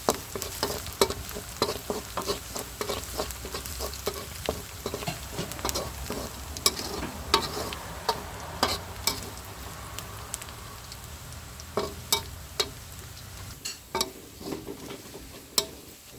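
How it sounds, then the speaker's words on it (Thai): Garlic frying in hot oil for a Thai fried shrimp dish, with a steady crackling sizzle and repeated sharp clicks of a utensil stirring against the pan, continuous and close with no voices. "เจียวกระเทียมให้หอม"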